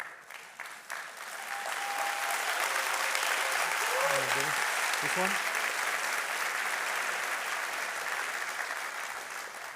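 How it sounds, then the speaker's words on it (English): Sustained audience applause at a technology keynote on the Chainlink platform, a broad steady roar of clapping filling the hall for the full stretch, with a brief spoken question from the stage partway through. "you're clapping for this or for the thank you?"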